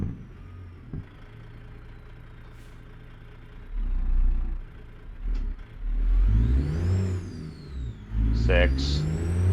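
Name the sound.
truck engine revving and shifting in American Truck Simulator video game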